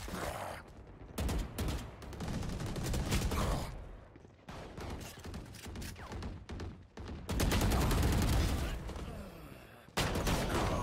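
Gunfire in Valorant, bursts of rapid shots and sprays separated by short gaps, loud and close, with someone speaking between and over them.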